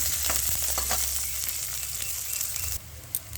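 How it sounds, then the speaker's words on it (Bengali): Chopped onions frying in a pan for chana paneer masala, a steady close sizzle and crackle with no talk, easing slightly near the end. "পেঁয়াজটাকে ভালো করে লাল লাল করে ভাজতে হবে"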